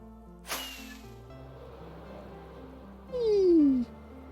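A cat meows in the Minecraft game, with one clear falling mew near the end after a brief soft noise burst earlier, heard over quiet game music.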